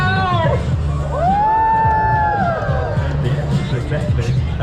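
A street-show audience at the Edinburgh Fringe cheers excitedly before a fire-eating act, with a loud, continuous wash of shouts, whoops and rising voices from a large crowd nearby.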